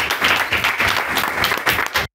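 Loud, close applause from an audience honoring university students in Mexico, brisk continuous clapping that cuts off abruptly at the end.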